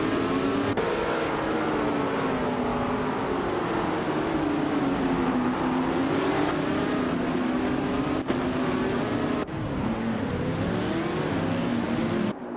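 Formula 5000 race cars roar around the Sydney Homebush Street Circuit, engines droning loud and continuous with pitch sweeping up and down through gear changes as the cars pass close by.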